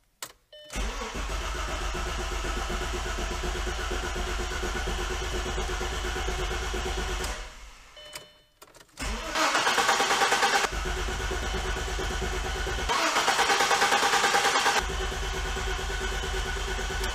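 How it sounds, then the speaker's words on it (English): A 2000–2002 Audi S4 engine cranks over. It starts and settles into a steady, loud idle, then briefly cuts out and restarts, revving up twice with a louder, rougher note. No one speaks over it. "We're going to turn the car over."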